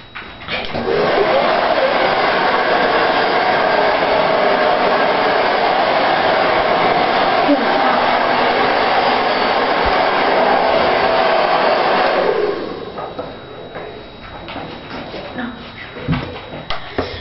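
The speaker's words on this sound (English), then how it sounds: "Let me really blow dry her hair." A hair dryer blows steadily while someone blow-dries a person's hair, a loud continuous whooshing roar that holds for about twelve seconds and then cuts off, leaving quieter room noise.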